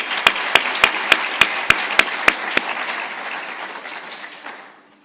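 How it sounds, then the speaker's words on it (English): Applause at a high-level plenary closing session of the G-STIC conference, heard as about ten sharp, evenly spaced claps that stop abruptly, followed by a short fading room tail. "Please also join me in giving them a round of applause."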